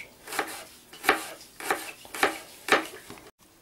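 An onion is finely chopped with a knife on a board while making Korean-style carrots: five evenly spaced, crisp blade strikes roughly every half second, close and clear, with no talking.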